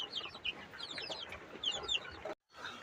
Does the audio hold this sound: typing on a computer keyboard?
no